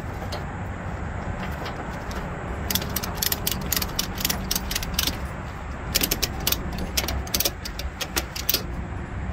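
A ratchet strap being cranked tight to secure a load on a truck, its pawl clicking in quick bursts of sharp, loud ratcheting over steady background noise, with no talking.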